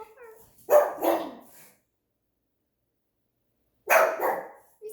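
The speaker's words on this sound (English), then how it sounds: "Minnie, stop. You can't bark." A pet dog named Minnie barks indoors in two close, loud bursts, the first a quick cluster of several barks and the second a shorter pair a few seconds later, with silence between.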